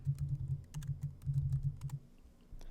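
Typing on a computer keyboard in a Quizlet spelling exercise, with quick bursts of close, soft key taps and short pauses between words, quiet and without talk.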